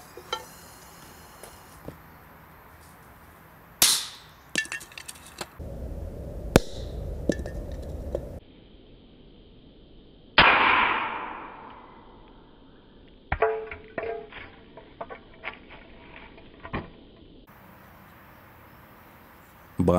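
Several sharp firecracker blasts inside a metal can ring out with a metallic clang, separated by quiet gaps, with scattered clicks and rattles between them.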